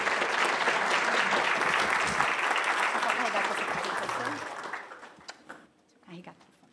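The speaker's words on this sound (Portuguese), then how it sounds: "Uma salva de palmas para o Mark." An audience at a talk bursts into loud, sustained clapping as speaker Marc is called to the stage, the applause fading out over the last couple of seconds into a quiet room with a few scattered sounds.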